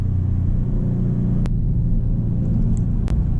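A 2025 Maserati GranCabrio Trofeo's engine hums in a steady low rumble while driving at a cruise, loud and close, with two sharp brief clicks partway through.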